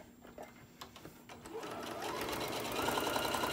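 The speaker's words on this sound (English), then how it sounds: "So let me sew these really fast." A sewing machine stitches diagonal seams across the corners of a fabric bowl koozie, its motor whirring in a steady run that grows louder and denser toward the end, with a few faint clicks early on.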